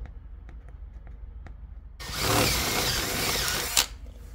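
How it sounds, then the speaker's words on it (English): A power drill bores a hole while securing a lithium RV house battery, bursting in loudly after a couple of seconds of faint ticking and whirring steadily before a sharp clunk near the end. "What I have to do is drill a hole."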